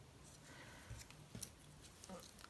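Scissors snip through paper, cutting out small hand-colored gnome figures for a 3D card; a few quiet, irregular snips sit close over a soft background hiss.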